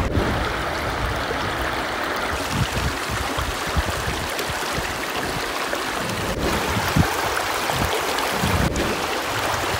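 The Flint River flows past a Nucanoe Flint kayak, giving a steady rushing, burbling wash of moving water that is close and continuous throughout, with no voices.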